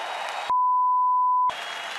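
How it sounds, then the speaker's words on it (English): A round of applause for a heavyweight boxing champion, a dense burst of clapping cut in the middle by a steady one-second electronic beep, then resuming. "So please, give him a round of applause as our heavyweight champion of the world."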